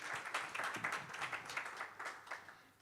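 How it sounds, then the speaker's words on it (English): Audience applause for a speaker at a GFF'25 conference session, a quiet, moderately dense patter of many hands clapping with uneven swells, heard at some distance across the hall. "Let's have a huge round of applause for him."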